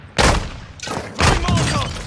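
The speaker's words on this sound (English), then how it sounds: "Throwing a stun grenade!" Stun grenade going off in Call of Duty Modern Warfare 2 battle royale: a sharp loud blast, then two more booming bursts with crackling and ringing tails, close and dense within two seconds.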